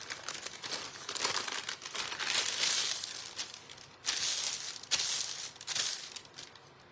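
Material being folded and pressed while building a homemade bottle rocket, producing close, quiet crinkling and crackling in uneven bursts with short pauses between them.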